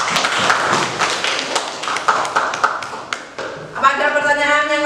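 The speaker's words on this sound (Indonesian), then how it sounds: "Ya, tepuk tangan untuk kelompok 4." Classroom applause for a student group that has just presented breaks out as a dense patter of clapping hands, fairly loud and close, then fades as a voice begins to speak.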